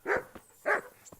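Two short dog barks in the video game Kingdom Come: Deliverance, spaced about half a second apart, fairly close and clear, each followed by a faint softer yip.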